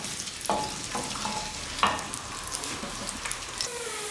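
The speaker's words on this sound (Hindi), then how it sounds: "इसमें हमने चॉप किया हुआ लहसुन डालेंगे। इसको हम लाइट गोल्डन करेंगे।" Chopped garlic fries in hot oil for beef karahi, a soft continuous sizzle broken by a few scraping stirs, moderately close with no talk.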